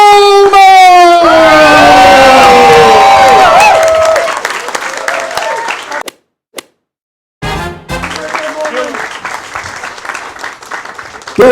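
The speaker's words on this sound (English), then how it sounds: "give it up for your man of the night" A comedy club crowd breaks into loud applause and cheering for the headlining comedian, with whoops and shouts at first, then sustained clapping. It briefly drops out, then resumes as steady clapping.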